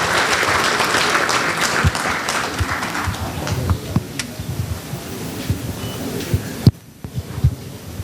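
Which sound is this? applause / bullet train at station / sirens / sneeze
applause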